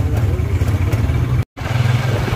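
A motorcycle engine carrying three riders rumbles steadily and close by, a loud low drone that cuts out for a split second before resuming.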